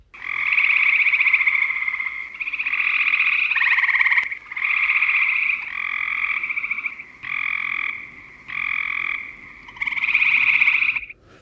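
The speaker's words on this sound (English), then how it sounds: "This first soundtrack up here has both the gray and Cope's gray together" Gray treefrogs and Cope's gray treefrogs call together in a chorus of loud, close trilling bursts, each lasting a second or two and repeating in a steady rhythm with brief gaps between them.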